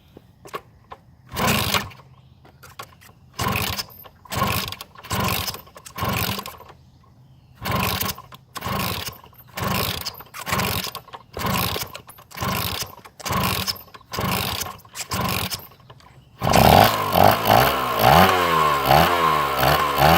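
A 1976 Kawasaki KM100 motorcycle is kicked over repeatedly for its first start: a run of about a dozen rhythmic, chuffing kicks with short pauses, then the small engine catches and runs loudly, unevenly and continuously at the end.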